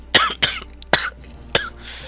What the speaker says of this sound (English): It's that cough again.